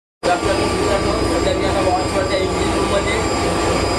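A loud, steady ship engine drone aboard a merchant vessel, with a constant low rumble and hum, starting abruptly and continuing unchanged throughout.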